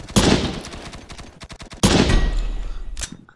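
Gunfire in Poxel.io, the video game, crackles in loud close bursts: a heavy opening shot, a quick string of rapid automatic rounds, then another loud blast trailing off, with no talking.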